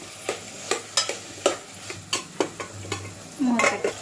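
Spoon scraping and stirring a drumstick, tomato and prawn curry in a pan, a run of sharp clinking strokes about every half second over a soft frying sizzle, fairly close, with no talk.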